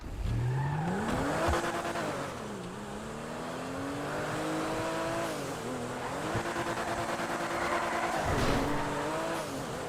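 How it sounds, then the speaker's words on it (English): Car drifting in GTA 5, engine revving and rising then dipping repeatedly with tire squeal, loud and close throughout, no talk. "That would have been a nice drift if I didn't hit that pole"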